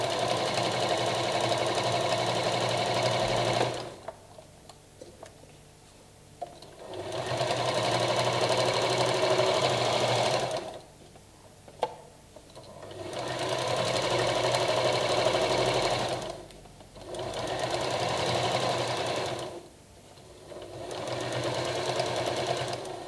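A sewing machine top stitches along a folded fabric strap for a slanted strip bag, running in three long steady bursts of buzzing stitching separated by short pauses, close and loud.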